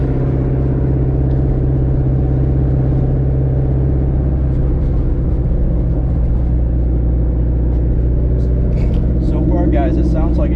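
Ford Mustang engine idling after a misfire fix, a loud, steady, close low rumble with even pulsing that holds throughout, with someone speaking over it near the end.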